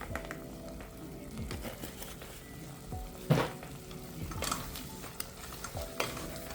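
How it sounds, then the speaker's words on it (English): Cassava stirred with cooking cream in a pot, a steady soft sizzle under scraping spoon strokes and the occasional clink of utensil against metal, close and moderately quiet, with no talking. "Then we stir everything together."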